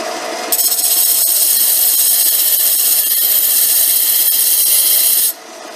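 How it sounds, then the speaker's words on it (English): A carbide cutting tool grinds against an industrial diamond surface with a loud, steady high-pitched rasp that holds for several seconds before stopping abruptly. "this is a industrial diamond surface on here, and it will shape and cut the carbide pretty slowly"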